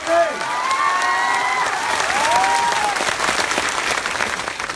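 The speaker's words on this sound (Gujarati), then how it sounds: "તમે જોરથી તાળીઓ પાડો" A community gathering of a Thakor caste association in Patan district, Gujarat, with a crowd clapping loudly and steadily throughout, dense sustained applause with a faint voice calling out near the start.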